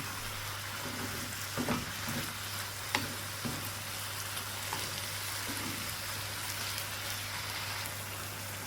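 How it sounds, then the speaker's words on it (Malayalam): Chicken pieces stirred and fried over high heat for butter chicken, a soft steady sizzle with a few scraping stir sounds, fairly quiet and without talk. "എന്നിട്ട് തീ കൂട്ടി വെച്ചിട്ട് ഇതിലിട്ട് മിക്സ് ചെയ്തിട്ട് ചിക്കൻ്റെ കളറ് മാറി വരുന്നത് വരെ ഇളക്കി കൊടുക്കുക"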